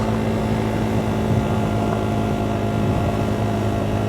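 A KTM 390 Duke motorcycle is ridden on gravel, its engine and road noise a loud, steady, unbroken drone with no voice over it.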